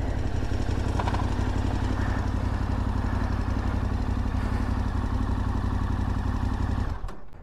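KTM 1290 Adventure S motorcycle with its stock Akrapovic exhaust idling steadily, a loud, continuous low engine rumble with light mechanical clatter that cuts off abruptly near the end.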